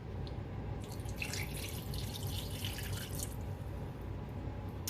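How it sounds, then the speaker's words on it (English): Half a cup of water poured into tomato paste while making lasagna, a steady, faint, splashing trickle that runs without a break for several seconds, with no voices. "And then we're going to add in 1/2 cup of water."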